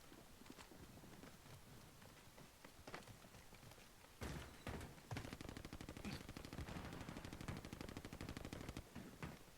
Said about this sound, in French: Les gars, ça tire par là, j'ai l'impression